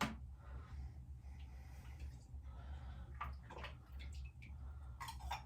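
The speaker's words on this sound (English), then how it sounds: "Put some water in it, all sanitised water, take the tube out, plug the airlock in," Sanitised water trickles faintly into a beer fermentation airlock during home brewing. Soft splashes come with a few small clicks and knocks, all quiet and close.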